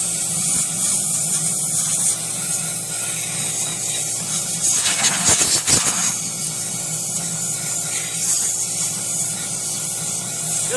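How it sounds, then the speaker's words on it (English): Compressed air blasting dust out of the gas tank of a Craftsman Eager One 4HP 20-inch Tecumseh push lawnmower, a loud close continuous hiss with a brief louder rushing surge midway, no talk. "Just going to take some compressed air"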